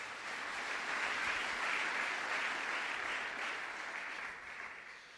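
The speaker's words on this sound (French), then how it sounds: "Est-ce qu'on peut acclamer le Seigneur pour nos bien-aimés?" A church congregation applauds during a worship service, a steady, dense wash of clapping that holds for several seconds and then tapers off toward the end.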